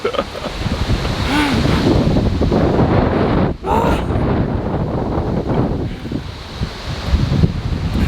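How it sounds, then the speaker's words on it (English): Strong 35 to 40 mph wind gusts roar and buffet continuously around a jungle workshop, loud and close with rushing turbulence, briefly dropping off before surging again. "We have 35 to 40 mile an hour gusts coming through."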